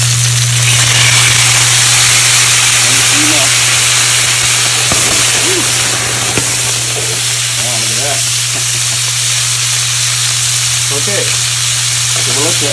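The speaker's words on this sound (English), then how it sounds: "I'm going to deglaze the pan with a little bit of white wine" White wine hits a hot pan after pan-fried salmon, giving a loud, steady, close sizzle and hiss that lasts throughout, with faint stirring and scraping under it.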